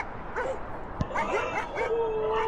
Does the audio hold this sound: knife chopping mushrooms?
no